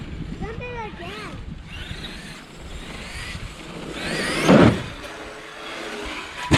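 An Arrma Outcast 8S EXB RC truck whines as it drives and jumps outdoors, its motor rising and falling, with a hard landing thump near the end; people talk and shout over it.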